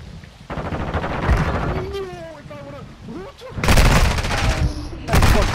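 Loud bursts of gunfire from the video game Call of Duty: Modern Warfare II, heavy volleys near the start and again toward the end, with a voice talking in between.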